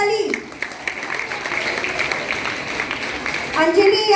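Loud applause from an assembled audience at a school prize-giving, honouring a third-place winner; dense steady clapping that lasts several seconds with crowd noise mixed in.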